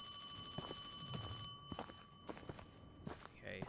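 In the horror video game Paranormal HK, a telephone rings in a fast, steady electronic trill for about a second and a half, then stops, leaving scattered footsteps and clattering movement.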